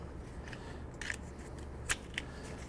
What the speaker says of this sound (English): I'm just going to snip it off with my knife.